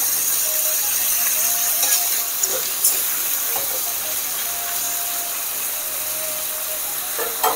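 Potatoes and eggplant fry together with onions in a pan in a village kitchen, giving a steady, bright sizzling hiss with scattered small crackles and pops throughout.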